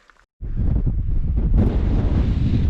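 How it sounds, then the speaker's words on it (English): Loud wind buffets the microphone with a low roaring rumble on a hike up the Old Man of Coniston, starting abruptly after a brief quiet moment and growing stronger. "It's getting a little windy, a bit chilly on the shoulders"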